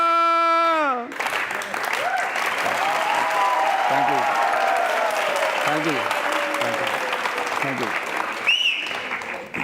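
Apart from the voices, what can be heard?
audience applause after a song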